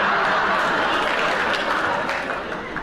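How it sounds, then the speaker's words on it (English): Studio audience applause rolls out as a steady, dense patter of many hands clapping, holding fairly loud before tapering slightly at the end. "a nice round of applause"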